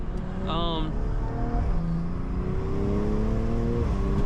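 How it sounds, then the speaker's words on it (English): A turbocharged 2020 BMW M340i accelerating with a rising engine note, a high turbo whistle briefly audible near the start, interior rumble steady beneath. "It's just a great spooling. It's a great turbo setup."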